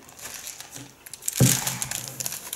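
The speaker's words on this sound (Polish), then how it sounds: "Papier do pieczenia" Nearby hands crinkle and rustle a small sheet of baking paper, soft handling at first, then a louder crumpling burst that settles into continued crackling, with no speech.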